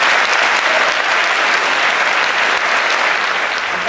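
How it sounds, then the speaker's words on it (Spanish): Audience applause at a Christmas concert, a loud, dense and continuous roar of clapping from a full hall that holds steady throughout. "pido un aplauso"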